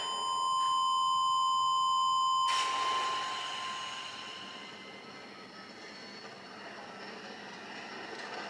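Steady electronic beeping from the video game Danganronpa: Trigger Happy Havoc, loud and continuous for about two and a half seconds before cutting off into a fainter lingering hum.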